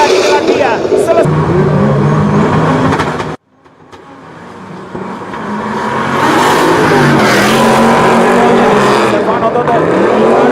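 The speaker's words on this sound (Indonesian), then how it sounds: "memberikan pressure dengan suara mobil yang begitu luar biasa menggelegarnya" V8 drift race cars roar loudly at a drift event, with sustained engine noise and revving that cuts out abruptly, then builds back to a full, dense roar, with commentary talking over it throughout.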